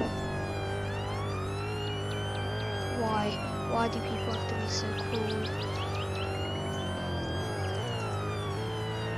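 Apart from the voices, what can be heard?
ambulance siren in a roleplay video game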